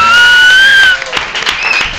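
A loud whistle gives way to a short burst of audience applause and cheering, brief and close.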